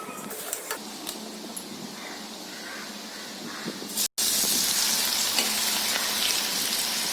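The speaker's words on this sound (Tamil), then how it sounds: "கடாயில் எண்ணெய் நல்லா சூடானதுக்கப்புறம் நம்ம மிக்ஸ் பண்ணி வச்சுருக்கோம்ல அந்த பக்கோடா மிக்ஸை அதில் ஆட் பண்ணலாம்." Cauliflower pakoda mix fries in hot oil in a kadai: a moderate sizzle, then after a short break a louder, dense crackling fry, heard up close with no voices.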